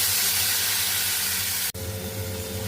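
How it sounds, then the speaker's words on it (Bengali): Chickpea boiling water poured into a hot pan of spiced potatoes and chickpeas, a steady steamy hiss that changes abruptly partway through into a lower sizzling bubble. "এবার ছোলা সিদ্ধের জলটাই দিয়ে দিচ্ছি।"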